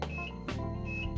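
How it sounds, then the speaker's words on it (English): An RC truck powering on gives two short electronic beeps, evenly spaced about a second apart, over a low steady hum with faint background noise. "Beep beep, automatically it will turn on the truck."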